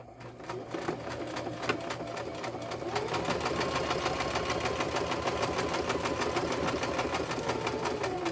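A sewing machine runs a zigzag stitch through slippery fabric and over pins, a steady rapid mechanical chatter that speeds up partway and continues evenly, close and alone.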